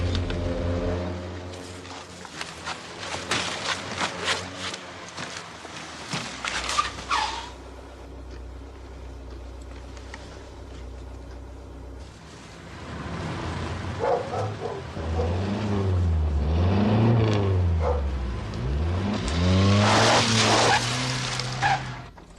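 A car engine revs and roars past in a 1981 BBC drama scene, building from a low drone to loud surging revs and tire noise near the end, with no talk.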